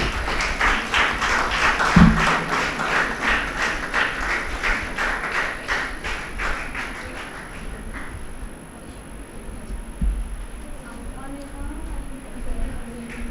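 Audience applause at a university moot court competition ceremony. A crowd claps in a steady rhythmic beat that slowly fades out over several seconds, leaving a quieter hall with a faint voice and a few thuds.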